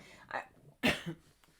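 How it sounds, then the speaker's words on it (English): A single short allergy cough rings out, preceded by a softer throat-clearing sound, close and isolated in a quiet room. "I apologize if I cough"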